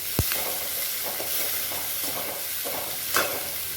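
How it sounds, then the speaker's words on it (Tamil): Capsicum sautéing in oil in a wok-style pan for chutney, a soft steady sizzle and hiss with a sharp knock near the start and another brief clatter later, no voices. "அதே வானலியில் எண்ணெய் ஊற்றி கொஞ்சோண்டு இந்த குடமிளகாயை நல்லா வதக்கிக்கலாம்."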